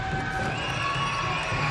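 A basketball crowd at a Friday night game between Auckland Tuatara and Manawatū Jets cheers and shouts in an indoor arena, a steady, dense roar of many voices without a break.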